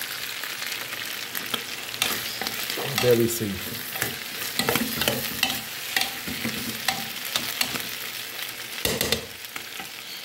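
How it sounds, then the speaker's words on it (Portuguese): Pieces of pork liver and heart sizzle steadily in a pan for sarapatel, a Northeastern Brazilian dish, with stirring scrapes and clinks throughout and a brief voice speaking near the end. "tô fritando aqui um pedaço aqui de fígado e coração"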